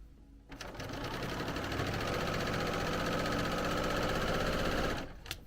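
A sewing machine runs steadily for about five seconds, stitching the side seam of a holiday sweatshirt, loud and close with a quick start and stop.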